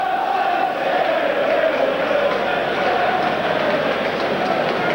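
Crowd of 13,755 at a 1990 Bristol City vs Blackburn Rovers football match, a steady distant roar and murmur of the stadium filling the background throughout.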